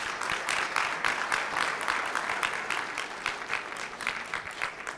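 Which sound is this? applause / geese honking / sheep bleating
applause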